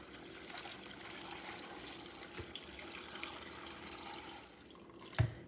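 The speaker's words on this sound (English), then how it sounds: "we're going to cover them with cold water" Cold water running from a tap into a jar of sliced cucumber rings, a steady soft trickle and splash that carries on throughout at low level, with a brief clunk near the end.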